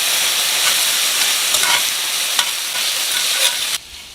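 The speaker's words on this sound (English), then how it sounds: "Give that a good stir" Beef with chili powder and hot sauce sizzles loudly in a pan over medium-high heat, a dense, steady frying hiss with stirring scrapes, until it cuts off abruptly near the end.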